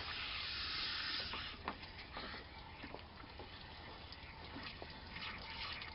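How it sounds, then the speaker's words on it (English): Water flushes through a cooling system hose on a Jeep Cherokee, a steady hissing gush that starts strong and settles into a continuous rushing flow with faint splashes. "Just flushing out all that stuff."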